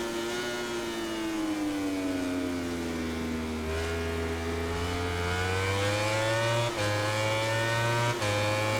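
Yamaha racing motorcycle engine in MotoGP 19, a high, strained whine held steady through the whole stretch, with the pitch dipping and then climbing through the gears and two sharp shift breaks near the end, loud and close with no talk.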